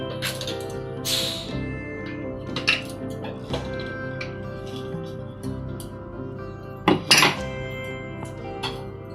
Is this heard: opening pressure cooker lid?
yes